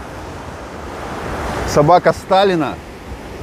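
Surf at Anapa beach washes in a steady broadband hiss with some wind on the microphone, while someone speaks briefly over it in the middle.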